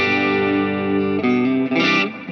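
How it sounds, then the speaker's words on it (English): A shimmer reverb from a TonePrint on a Plethora X5 guitar pedal, with sustained tones carrying a bright, swelling upper halo that rises and blooms over the held notes. "And this brings in the shimmer effect."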